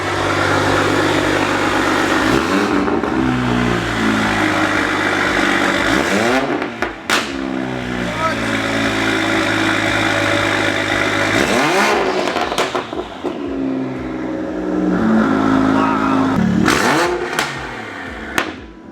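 A powerful BMW F30 sports car engine revs hard again and again on a dyno, running on 100-octane race gas, a loud, throaty roar that climbs and falls in long sweeps, close up and sustained.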